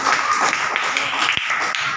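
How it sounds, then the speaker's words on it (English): Young schoolchildren in a classroom clap for a classmate, a brief burst of rapid, overlapping hand claps close by, fairly loud and steady throughout. "Clap for her."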